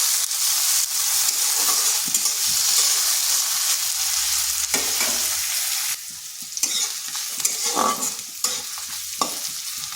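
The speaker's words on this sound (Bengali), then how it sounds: "পেঁয়াজটা হালকা একটু ভেজে নিচ্ছি।" Long-sliced onion frying lightly in a pan sizzles steadily up close, broken by bursts of scraping and stirring, with the sizzle dropping a little partway through before the stirring picks up again.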